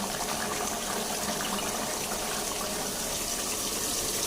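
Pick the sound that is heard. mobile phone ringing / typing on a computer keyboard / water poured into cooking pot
water poured into cooking pot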